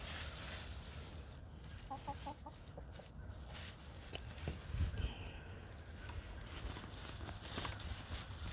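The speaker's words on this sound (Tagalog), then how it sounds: "bakit tumakbo yung mga ibang ano, mga manok?" Chickens roaming outdoors, clucking in short bursts against a faint background of rustling and ambient yard noise, no talking.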